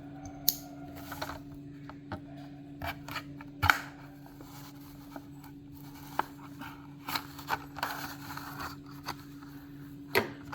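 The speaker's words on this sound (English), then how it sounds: "So let's unbox and see how it looks." A Hot Wheels 2020 Toyota Tacoma Baja Blazers blister package being unboxed: scattered sharp cuts, snips and plastic crinkles, close and irregular, over a low steady hum.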